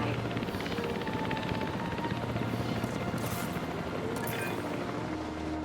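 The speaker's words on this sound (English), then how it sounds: "Please report for dig site selection as the helicopter is standing by." Helicopter in the video game Jurassic World Evolution 3, a steady loud rotor drone with rapid chopping pulses and low engine hum running continuously throughout, with no talk over it.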